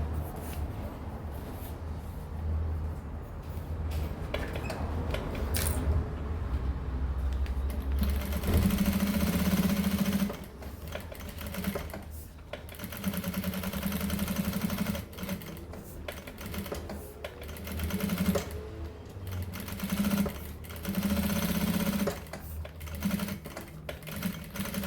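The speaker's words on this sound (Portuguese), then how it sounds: "E passo uma costurinha em toda a volta, prendendo o forro no espelho" A sewing machine stitches lining onto a mirror case in bursts, its fast motor whir starting and stopping with short pauses between runs, close and clear with no voices.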